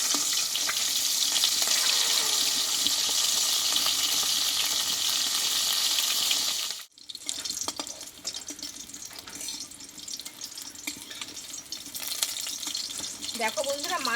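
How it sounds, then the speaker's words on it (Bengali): Tilapia fish pieces fry in hot oil, a loud, dense sizzle that cuts out suddenly midway and resumes as a rougher, crackling spatter, likely as a piece is turned; no voices. "এখানে কিন্তু মাছটা এক পিচ আমার ভালোভাবে ভাজা হয়ে গেছে এবারে আমি উল্টিয়ে নেব"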